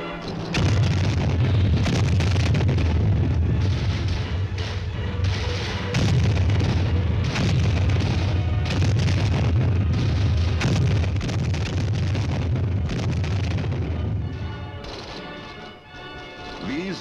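Artillery supporting fire pounds near an enemy line in Vietnam-era combat, a dense, continuous roar of booms and crashes that stays loud for most of the stretch before easing near the end.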